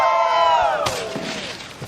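Crowd cheering and whooping at a men's snowboard superpipe final, loud and broad at the start and easing off over about two seconds, with a few dull thumps and a rising shout mixed in.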